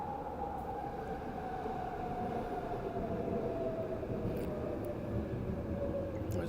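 A train rolls past outdoors, a steady broadband rumble with a faint sustained tone drifting slightly lower, holding constant and fairly distant throughout with no voices.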